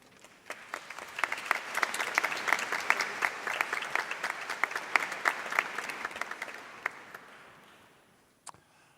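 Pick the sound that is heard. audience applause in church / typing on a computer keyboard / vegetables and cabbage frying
audience applause in church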